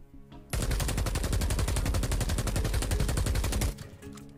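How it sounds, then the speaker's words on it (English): Lienna 5 LMG light machine gun in Warzone fires one sustained automatic burst of about three seconds, loud and rapid, with short quiet gaps before and after. "And this is the new Liena 5 LMG."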